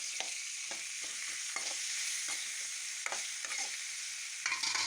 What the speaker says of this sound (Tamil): தக்காளி நல்லா வதங்கினோன்னே உரித்து வச்ச வெங்காயத்தை அலசி போட்டுக்கலாங்க